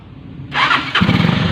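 A Skygo 125 motorcycle, a year old with a newly replaced starter carbon brush, cranks on its electric starter and catches, the engine firing into a rough, loud idle close by after a brief whir.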